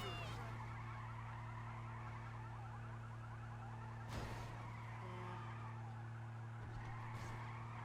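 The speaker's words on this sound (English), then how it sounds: "So your car will spin around a lot like that" A car in the GTA 5 video game skids and spins out, with a sustained tire squeal sliding across the whole stretch and a couple of brief sharp bursts partway through.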